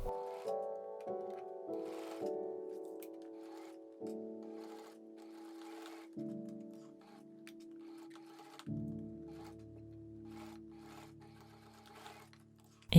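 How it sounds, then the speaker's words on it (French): A sewing machine stitches fabric tabs onto a zipper end in several runs, its hum shifting pitch between bursts with small mechanical ticks in a quiet room, no talk. "je les place à l'extrémité de ma fermeture à glissière de part et d'autre et je vais venir les coudre"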